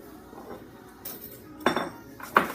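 Chopped avocado dip ingredients go into a bowl with a few distinct clinks and knocks, separate bright impacts against the dish over a quiet background.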